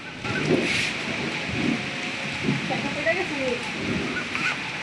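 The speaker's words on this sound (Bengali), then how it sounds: "আমরা বের হওয়ার পর এরকম বৃষ্টি নামছে।" Steady downpour of rain hissing all around, with people talking intermittently close by over the constant wash of water.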